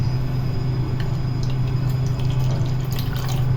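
Water steadily pouring into a container for a homemade insect smoke repellent, a continuous full-bodied rush with faint drips on top, near and alone.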